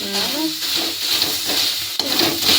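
Chopped onions frying in oil while being stirred, a steady, close, continuous sizzle with scraping stir strokes and a brief clatter near the end, no voices.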